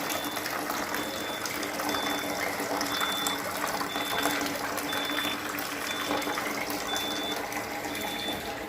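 Water fills a container in the morning, heard as a steady, loud, continuous gushing wash with a faint pump-like hum underneath, unbroken for the whole stretch and with no clear speech.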